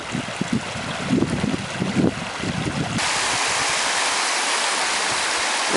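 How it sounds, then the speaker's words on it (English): Water flowing strongly in a full stream on a North Table Mountain hike, a steady broadband rush that grows louder and more uniform in the second half, with some uneven splashing and bubbling early on. "you can see there's a lot of water in the stream"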